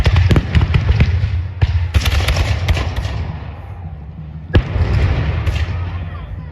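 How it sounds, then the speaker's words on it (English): Booming cannon and musket fire at a Revolutionary War reenactment of the Battle of Guilford Courthouse, loud repeated blasts and crackling volleys close by, with someone commenting between shots. "Looks like the artillery."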